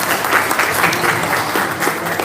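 Audience applause greets speaker Hadi Suprapto at a discussion event, steady dense clapping from a sizable crowd filling the room throughout, loud and close.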